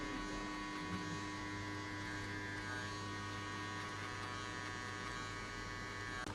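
Electric hair clipper buzzing steadily throughout a buzz cut, a constant close mechanical hum with a tonal whine and no pauses.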